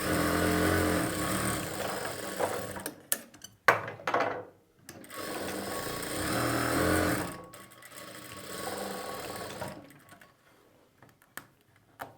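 Sewing machine stitching a pocket onto a churidar bottom, running in steady whirring bursts with short pauses and gaps between runs, close and clear with no talk.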